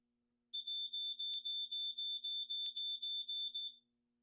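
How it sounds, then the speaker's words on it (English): An RV gas detector alarm: a loud, piercing electronic alarm beeps rapidly about a dozen times in an even rhythm, then stops. "That's pretty loud and sounds like a smoke detector"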